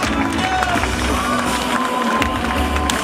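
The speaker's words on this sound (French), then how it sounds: "Applaudissements encore pour eux, s'il vous plaît" A crowd cheers and applauds at an America's Cup sailing award ceremony honouring the Land Rover BAR team. The cheering forms a dense, steady roar that stays loud throughout, with no pauses.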